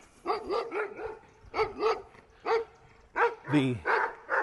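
Big dogs barking behind a fence, a run of deep, loud barks in uneven bursts, with a few higher yips and a whimper near the end.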